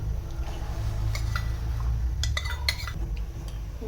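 A spoon stirs masala milk thickened with a cornflour premix in a pot on the stove. Light clinks and scrapes against the metal sit over a constant low hum.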